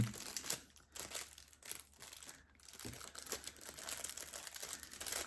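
Plastic packaging around a 3D car sticker crinkles and crackles in irregular handled bursts, close and fairly quiet, with no speech.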